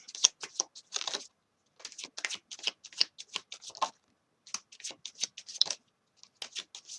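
Tarot cards are shuffled by hand in quick riffling bursts, close and crisp, with short pauses between runs of papery flicks and no speech.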